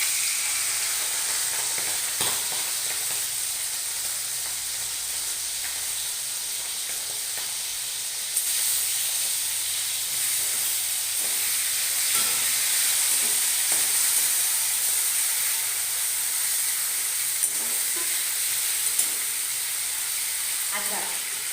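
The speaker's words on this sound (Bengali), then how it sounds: "এবার আমি একটু চিংড়ি মাছগুলোকে হালকা ভেজে নেব।" Shrimp frying in oil in a pan in a home kitchen: a steady, loud, bright sizzle and hiss that runs throughout with small crackles and pops, and no talking.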